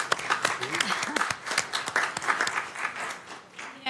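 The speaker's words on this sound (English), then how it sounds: "Can we give a round of applause to Mara-Keisha Smith, our city manager, and Ash?" A round of applause at a Sacramento City Council meeting, scattered claps from a modest crowd with distinct individual hand strikes, and voices talking over them.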